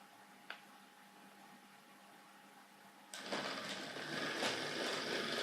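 The early Silver Seal motor of a Hornby Black Five model locomotive starts up partway through with a steady, whirring buzz. Before that there is a faint hiss and a single small click.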